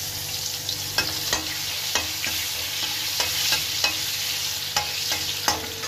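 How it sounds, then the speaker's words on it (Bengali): Onion frying in oil in a pan for a rohu fish curry, a steady close sizzle broken by regular scraping clicks of stirring. "এই তেলের মধ্যেই একটা পেঁয়াজ দিয়ে দিলাম।"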